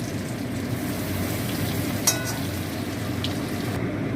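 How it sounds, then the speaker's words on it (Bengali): Fish pieces fry in hot oil with a steady, even sizzle throughout, and a single sharp utensil clink sounds midway. No one speaks. "এবার এইগুলি ভেজে নেবো"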